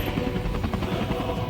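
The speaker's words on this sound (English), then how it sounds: "The Mi-26 is a 28-ton behemoth that officially entered production in 1980" A Mi-26 heavy transport helicopter thrums in a low, rapid rotor beat with engine drone, a short steady burst at moderate distance.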